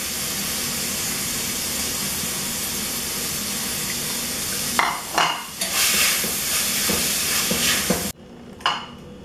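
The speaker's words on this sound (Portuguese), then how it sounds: "Vamos refogar o frango." Chicken sautés in a pan with margarine and a spoonful of garlic, giving a loud steady sizzle with bursts of stirring and scraping near the end.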